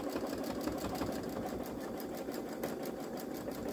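A Baby Lock Solaris Vision embroidery machine stitches a hummingbird design at a steady rapid rhythm, its needle clatter fast and even, close by and alone with no talking.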